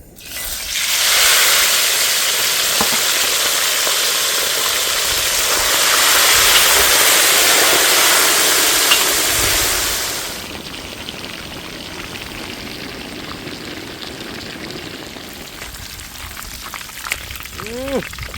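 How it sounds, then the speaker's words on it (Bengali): Pangas fish frying in hot oil, a loud steady sizzle that rushes up and holds for about ten seconds, then settles into a quieter bubbling crackle with faint clinks near the end. "আমার তেল গরম হয়ে গেছে, এখন মাছটা ছেড়ে নেব।"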